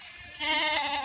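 A goat bleats once, loud and close, a wavering drawn-out cry that starts about halfway through after a quieter lead-in of farmyard background.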